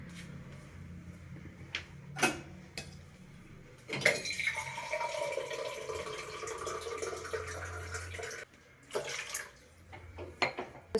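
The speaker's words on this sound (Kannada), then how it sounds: "ಫಸ್ಟ್ ನಾನು ಒಂದು ಸ್ವಲ್ಪ ನೀರು ಹಾಕ್ಕೊತಾ ಇದ್ದೀನಿ." Water poured steadily into a container while making a healthy homemade turmeric drink, a sustained splashing stream lasting several seconds, framed by a few soft clinks and knocks before and after, with no talking.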